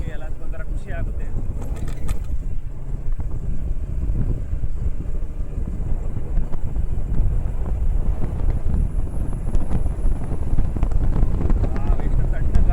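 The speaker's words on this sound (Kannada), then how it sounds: "ಎಷ್ಟು ತಣ್ಣ ಗಾಳಿ ಬೀಸ್ತಾ ಇದೆ" Cold wind blows through green forest around the Sri Udbhava Anjaneya temple near Shivamogga, buffeting the microphone in a steady, dense low roar that lasts throughout.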